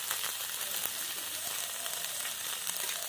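Mahurali fish fries in hot oil, giving a dense, continuous sizzle with fine crackles throughout and no pauses or voices.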